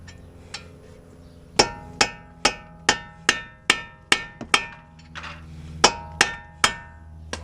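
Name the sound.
hammering punch on axle nut of 2011 Toyota Prius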